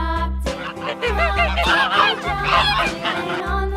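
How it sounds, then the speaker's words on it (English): Repeated goose honks from a farm goose, loud and close, sounding in a few bursts over steady backing music. "Goose."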